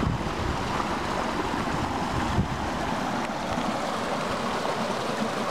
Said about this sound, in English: pretty neat water underneath, flowing underneath the ice.